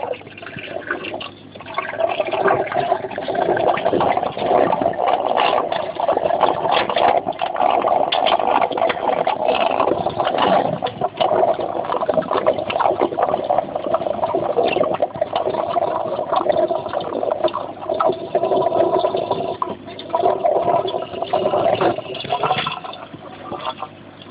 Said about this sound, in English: Now the noise that we have is noise from the airline